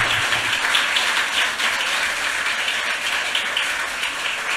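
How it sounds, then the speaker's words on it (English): Sustained applause from an audience at a literary reading, dense steady clapping throughout with no voices. "I would like you to please give a round of applause to the four writers"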